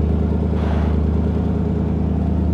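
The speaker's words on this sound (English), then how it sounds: "it has no exhaust, so it sounds pretty awful" A Lexus LS400 with no exhaust fitted idles loudly nearby, a deep, rough, pulsing engine drone holding steady throughout with no talking.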